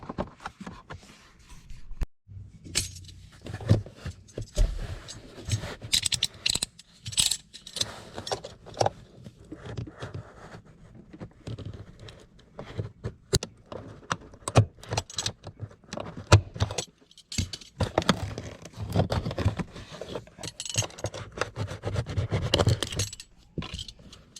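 Plastic trim being cut away inside a Subaru WRX cabin during a subwoofer install, heard as irregular scraping, clicking and rattling bursts at close range with brief pauses, no talking.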